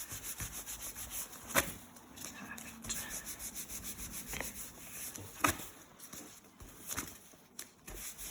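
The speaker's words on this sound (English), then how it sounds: "just give the wax a nice rub" Soft, faint rubbing of warm wax onto a bare foot during leg waxing, a continuous brushing scrub with a few light knocks scattered through it.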